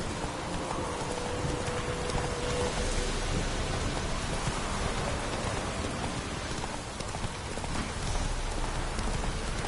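Roach the horse trotting in The Witcher 3, hooves clip-clopping steadily under heavy rain and rumbling weather, no talk.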